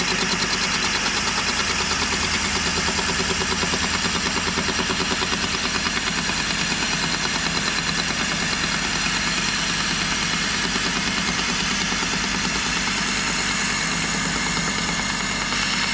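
A Fordson Major tractor engine idles nearby in a steady, even rumble with a fine rhythmic knock, running alone and unchanged for the whole stretch.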